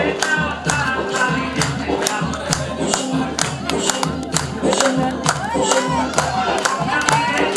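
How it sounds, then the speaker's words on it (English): Birthday party guests cheer and whoop together, loud rhythmic claps and stomps cutting through a dense wall of voices, with steady beats repeating about twice a second for the whole stretch. "make some noise for him"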